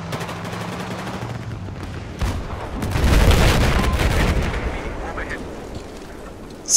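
Aircraft strafing gunfire in the Battlefield 4 video game, bursts of rapid shots building to a loud rattling barrage mid-clip, then easing off, with game effects in the background.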